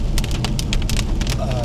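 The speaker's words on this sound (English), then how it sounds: "But I reckon this rain will probably wash that away." Heavy rain drums on a car while it is being driven, a dense, loud, continuous patter with crackling drop hits over low road rumble.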